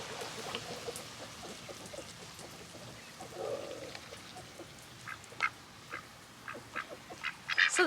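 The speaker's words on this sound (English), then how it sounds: "What's up, little ducks?" Ducks quacking in short scattered bursts, growing louder toward the end, over a soft steady outdoor background hiss.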